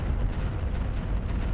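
An artillery salvo fires in the Battle Isle video game, a loud, dense rumbling boom that fills the whole short clip.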